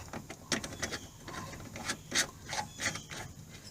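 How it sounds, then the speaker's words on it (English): Close rubbing and rasping of a faucet aerator being twisted off a sink tap on an RV, in short irregular scrapes with a few louder grinding strokes, no voices. "we're going to start out taking off the aerator, replacing it with this one."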